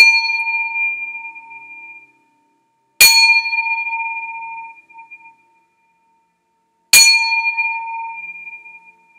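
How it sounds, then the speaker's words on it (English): A singing cup struck twice, each strike giving a loud, clear, sustained metallic ring that slowly fades, with a brief silence before the second tone. "it's not a bell, it's a singing cup."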